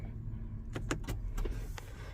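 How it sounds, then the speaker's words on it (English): A car being switched off, with a few short mechanical clicks and whirs over a steady low engine hum, fairly close and with no talking. "So I'm gonna turn the car off now."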